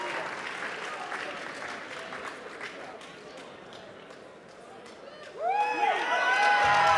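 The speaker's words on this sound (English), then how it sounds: "let's give these guys another round of applause" Applause and cheering fill the arena after the QuakeCon 2014 Quake Live duel grand final, then fade under a voice before a whooping, rising cheer swells near the end.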